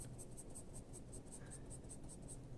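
Coloured pencil laid down in short, choppy strokes on paper, a soft steady scratchy rustle with faint repeated lifts, close and quiet throughout.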